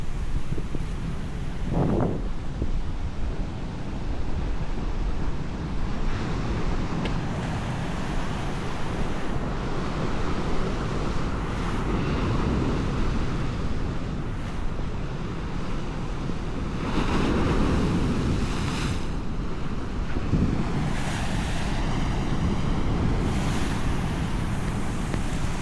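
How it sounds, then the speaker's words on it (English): Atlantic Ocean surf rolling onto the coast, a steady broadband wash of breaking waves with repeated swells, mixed with wind buffeting the microphone; no speech. "Today I'm just here to see the waves."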